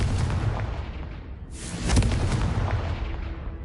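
A Confringo blasting spell exploding in Hogwarts Legacy, a loud booming burst with a rumbling low-end tail, following an earlier blast still fading, heard alone without talk.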